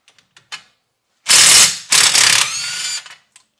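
Two loud, close bursts of a small impact wrench loosening brake bolts, a short hammering rattle followed by a longer one, with faint clicks before and after.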